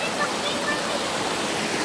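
A freshwater stream rushes with a steady, dense hiss of flowing water, loud and continuous, with no distinct splashes.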